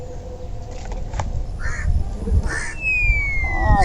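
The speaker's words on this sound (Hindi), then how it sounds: "कौआ तो आमे पढ़ै देलकै" Crows caw in short, harsh calls spread across a noisy outdoor scene near a mango tree, several distinct caws at moderate distance over a steady background rumble.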